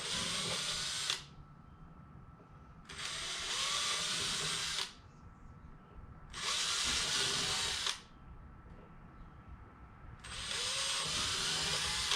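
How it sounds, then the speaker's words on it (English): A power drill with a 1/8 inch bit whines in four sustained bursts of about two seconds each, drilling holes in a 2020 Ford Explorer ST, with quieter pauses between, close up. "we'll use a 1/8 inch drill bit Finish all 6 of those holes."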